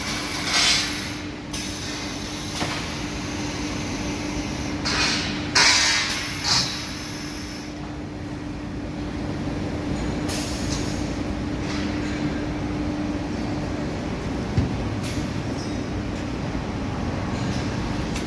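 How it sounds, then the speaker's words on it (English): Floating support and loading system of a JQ M2 machine runs in a workshop in Ukraine, giving a steady mechanical hum with a constant tone and occasional sliding, clanking bursts over about eighteen seconds, with no talk. "You can see how it works, floating support, loading system for this machine."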